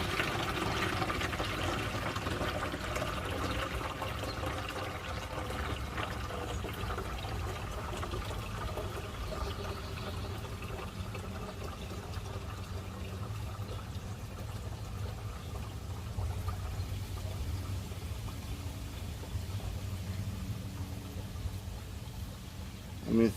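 Water poured through a vessel of marbles, a continuous low, soft trickling and gurgling flow that holds steady and faint throughout without pause.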